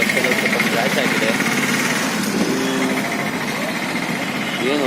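Exhaust of a Bajaj RS 200 motorcycle with a cut exhaust filter, a steady loud close engine drone with rapid pulsing and a few brief rising revs, heard alone without talk.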